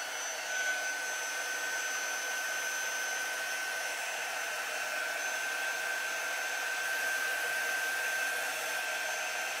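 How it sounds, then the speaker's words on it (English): A quick-dry crafting tool, not a heat gun, blows a steady whirring airflow with a high whine running without pause, quieter than a hair dryer. "This is just a quick dry tool. It is not a heat gun or anything like that."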